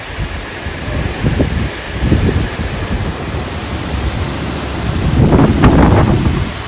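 Strong wind gusts blowing steadily through a suburban garden, a broad continuous roar with swelling surges and rustling leaves from acacia and maple trees, loudest near the end.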